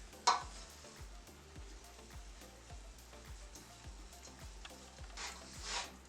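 Coconut with aromatics cooking dry in a pan on a stove over medium heat, a soft, faint sizzle with repeated gentle stirring scrapes and a light knock at the start.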